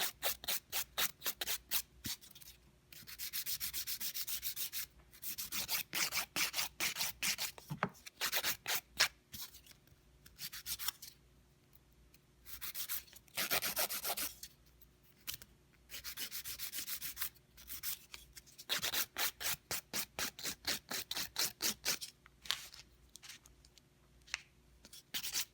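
Rhythmic back-and-forth strokes of a nail file over sculpted gel nails under light pressure, close and crisp, in repeated bursts separated by short pauses, with no speech.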